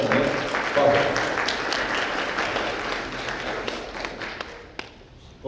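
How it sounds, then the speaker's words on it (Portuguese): An audience at a deaf-education federation event applauds a professor, a dense, steady wash of clapping that slowly thins and fades toward the end. "Um aplauso para a professora Elizabeth Fávaro."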